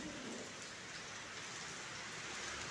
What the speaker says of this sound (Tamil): நல்ல மழை